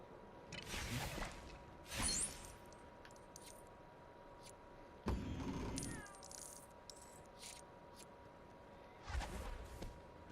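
A cat meows several times in the Lego Harry Potter video game, short separate cries spaced a few seconds apart over a quiet ambient background with faint tones.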